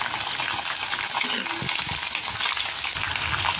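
Fresh grated coconut fries in a pan over medium heat with a dense, continuous sizzle. Scraping stir strokes sound up close, and no one speaks.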